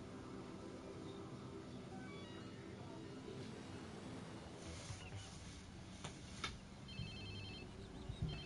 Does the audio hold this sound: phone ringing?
yes